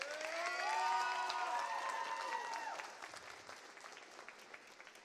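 Commencement ceremony audience applauding, a broad wash of clapping that swells early then gradually thins out, with prominent overlapping voices singing or calling out over the start.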